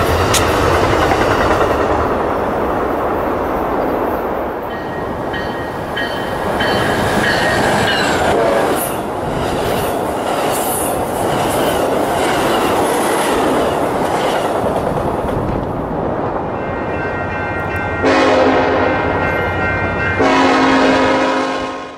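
A freight train rolls along a line cleared after a blizzard, rumbling loudly with clattering wheels and squeals. Two long, blaring horn blasts sound near the end.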